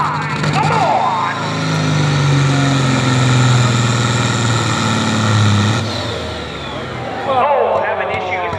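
A 1974 Kenworth truck with a Caterpillar C15 engine roars loudly at a truck pull, its deep engine note rising and sustained for several seconds, with an announcer talking over it.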